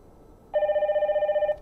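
Incoming-call ringtone from a Hikvision KIS702E two-wire intercom, sounding on a phone after the street panel is pressed: a steady pulsing electronic ring that starts abruptly and continues for about a second, close and clear, with no talk over it.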